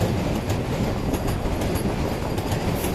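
Steady rumble of an AC double-decker express train running on rails between Bengaluru and Chennai, a continuous dense roar with faint rhythmic clatter, heard from inside a carriage with no talking.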